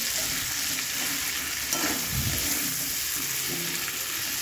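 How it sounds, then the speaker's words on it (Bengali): Vegetables are sautéed in oil with green chili, garlic and garam masala, producing a dense, even hiss of frying with a few soft stirring sounds partway through. "তো সব মশলাগুলো ভালো করে সবজিটার সঙ্গে কষিয়ে নেব।"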